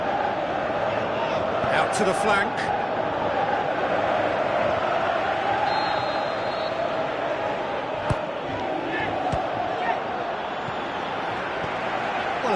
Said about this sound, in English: Crowd appreciates good football all round there.